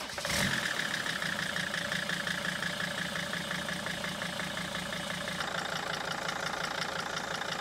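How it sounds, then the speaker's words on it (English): A 2004–2006 T1N Sprinter van's engine cranks and catches with a brief burst, then settles into a steady, close, fairly loud idle with a rhythmic diesel clatter and no talking. "we're ready to start her up"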